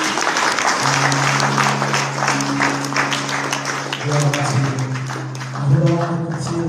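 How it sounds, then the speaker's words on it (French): Applause and cheering from a congregation at a church wedding service, a steady dense clatter of clapping that runs the whole time under sustained musical tones, with voices mixed in. "si tu es dans la joie, est-ce que tu peux acclamer ce Dieu?"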